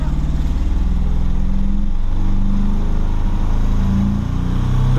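A BMW 318is fitted with a turbo and large injectors revs under acceleration with a loud, close, pulsing engine note that holds steady and then climbs, mixed with a rough exhaust rumble. No one speaks.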